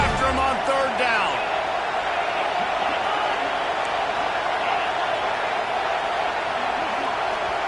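A packed college football stadium crowd roars loudly and steadily, a dense continuous wall of noise with a few sharp shouts near the start.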